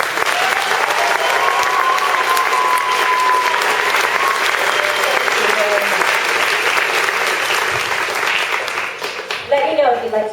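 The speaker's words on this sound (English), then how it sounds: "please round of applause for our parent council" A school graduation audience gives sustained, dense applause for the parent council, loud and steady throughout, with voices and cheers mixed in and fading toward the end.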